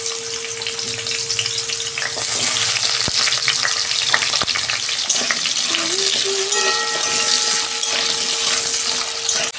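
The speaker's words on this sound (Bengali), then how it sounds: "তেল গরম হয়ে গেছে। প্রথমে আমি আলুটা ভেজে নিচ্ছি।" Potatoes fry in hot oil in a wok, giving a loud, continuous crackling sizzle that grows denser after the first couple of seconds, with occasional utensil clinks.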